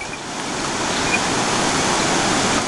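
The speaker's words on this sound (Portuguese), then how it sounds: "essa bela cachoeira que a gente vai ver agora. Ela vem em queda livre por uns 50 metros pelo menos." A waterfall on the Kedarnath trail, free-falling about 50 metres, gives a steady broad roar of rushing water, loud and constant throughout with no voices.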